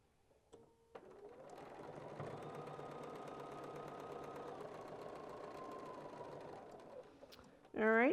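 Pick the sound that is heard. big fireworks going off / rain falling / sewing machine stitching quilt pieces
sewing machine stitching quilt pieces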